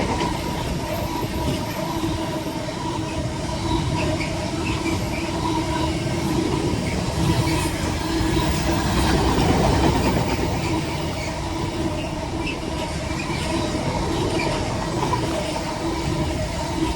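A train on the West Coast Main Line thunders past close by, a steady, loud rumble of wheels and carriages with faint clickety-clack running the whole way through and swelling slightly near the middle.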